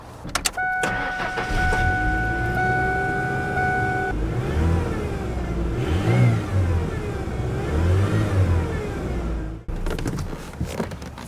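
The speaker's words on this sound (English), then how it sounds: "start the vehicle up and fluctuate the RPMs until the engine reaches operating temperature" A Ford Ranger engine starts, then idles and revs up and down at varying speeds while warming up, a close mechanical drone with rising and falling pitch before cutting off.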